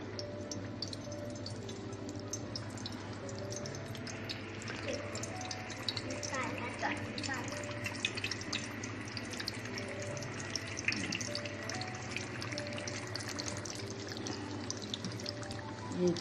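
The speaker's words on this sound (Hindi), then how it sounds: "देखिए ये मैं डाल रही हूँ, ये देखें इतना ऑयल डाला है मैंने।" Cooking oil pours into a pan while potato cutlets stuffed with chicken are being made, giving a steady liquid trickle and splash that runs the whole time under a constant background hum.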